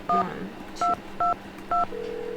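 Touch-tone keypad beeps sound as a phone number is dialed in the Nancy Drew video game Secret of the Scarlet Hand. Four crisp, evenly spaced dual-tone presses ring out loud and alone, followed by a steady tone.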